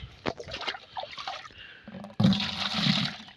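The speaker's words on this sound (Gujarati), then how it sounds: "10 ડબલા નાખી દે પાણીના।" Water is poured from containers with a sputtering trickle, then a fuller gushing splash after a short pause, close by.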